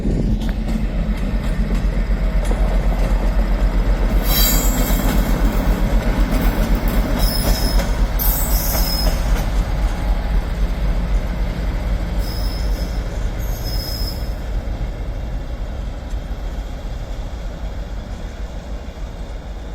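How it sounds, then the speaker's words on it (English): An Avanti West Coast Class 390 Pendolino pulls into Crewe station on the West Coast Main Line, its steady rumble filling the platform with high wheel squeals and brake screeches flaring repeatedly as it slows nearby. "Coming in now is a class Avanti 390"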